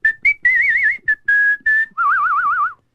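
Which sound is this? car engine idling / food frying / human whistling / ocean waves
human whistling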